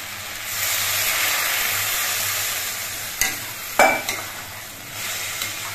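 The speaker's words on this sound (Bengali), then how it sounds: "তার জন্য এর মধ্যে অল্প একটু জল দিচ্ছি।" Water spinach stems and potatoes frying in a pan sizzle and hiss steadily, then a small splash of water hits the hot pan with a sharp burst of sizzling and a couple of brief clatters, no talking.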